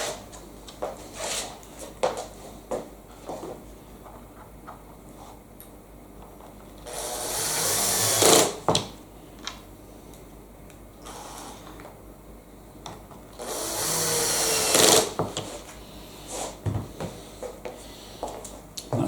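A cordless drill on a low torque setting and slow speed drives screws into a wooden radiator cover, two loud whirring bursts a few seconds apart amid quiet handling knocks.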